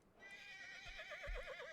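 Horse in the game Rust whinnying in a long wavering neigh, loud and close, with two soft low thuds underneath.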